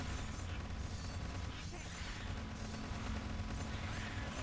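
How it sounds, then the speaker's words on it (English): Machine gun turrets fire continuously in the Block Fortress video game, a dense, steady rattle of gunfire with booms mixed into a busy battle soundscape, loud and sustained across the whole stretch. "Machine guns doing work"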